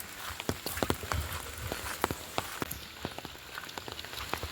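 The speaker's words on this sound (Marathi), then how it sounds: "आज खूप सकाळपासून भन्नाट पाऊस आहे" Heavy monsoon rain falls steadily, with a dense hiss of water and scattered sharp drops striking a nearby surface throughout, with no voices.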